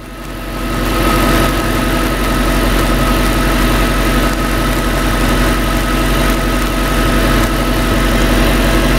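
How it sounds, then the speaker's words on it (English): A 2003 Ford Thunderbird engine runs steadily with a constant droning hum as the throttle is opened, loud and close with no change in pitch. "This is trying to open the throttle."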